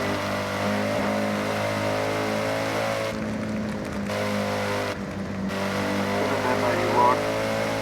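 A racing car engine in a video game hums steadily with tonal harmonics, rising slightly in pitch, with a couple of brief dips and a voice talking over it.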